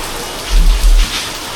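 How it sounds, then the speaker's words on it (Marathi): Rain falling outdoors during a wet-weather motorcycle ride on a Royal Enfield Meteor 350, a steady broadband hiss with a deeper rumbling swell in the middle, fairly loud and with no voices. "बाहेर पाऊस पण मस्त सुरू आहे"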